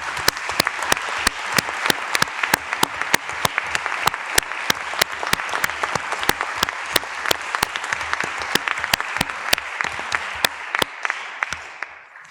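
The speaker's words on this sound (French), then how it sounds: "je pense qu'on peut les applaudir très chaleureusement" Clapping at a city council meeting in Rouen: a sustained round of hand applause from the chamber, many claps blending into an even patter with strong near claps standing out, fading at the end.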